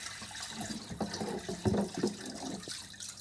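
Water splashing and pouring during cleaning of an EHEIM 2080 aquarium filter, a continuous wet rushing with irregular sloshing bursts, close and steady, no talking.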